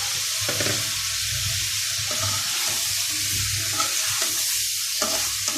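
Sponge gourd tipped into a pan of spiced potatoes and onion that have been well fried in masala, a dense close sizzle with repeated scraping stirs and knocks of a spoon, no talking.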